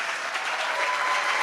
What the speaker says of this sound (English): I want to give my recruiters a round of applause.